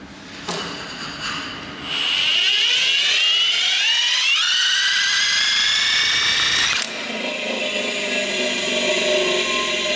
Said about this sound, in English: There was that milling sound again when they spun the motor up with the special drill they had.